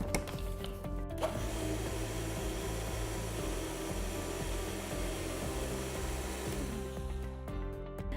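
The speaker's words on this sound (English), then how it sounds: "And that's going to go into the blender just till they mix well." A blender whirs steadily, mixing gluten-free vegan doughnut batter made with a flour mix. The motor drones loud and continuous, then cuts off near the end.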